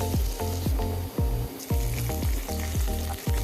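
Whole cumin, chopped onion and garlic fry in hot oil, a loud, close crackling sizzle broken by regular knocks and scrapes of a spoon against the pan, with no voices.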